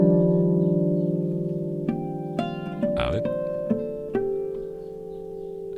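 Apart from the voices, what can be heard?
baritone Andean vihuela being tuned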